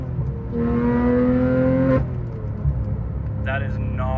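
Porsche 991.2 GT3 downshifting, the engine note swelling into a brief rev-matched blip and then dropping away, heard from inside the cabin with a sharp tonal whine.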